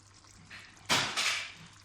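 Lemon juice splashes into a pot of balti gosht in a short, soft pour lasting under a second, above a faint background hiss.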